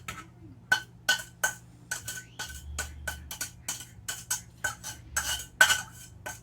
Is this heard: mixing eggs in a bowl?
yes